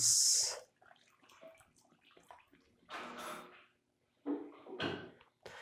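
Liquid poured while making a lemon balm herbal tincture, a short close splashing pour followed by quiet handling clinks and a few more brief pours of liquid.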